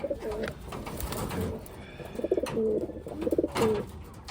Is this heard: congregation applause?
no